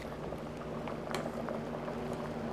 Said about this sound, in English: Let's just take a look at our squash here. Yeah, it's boiling away.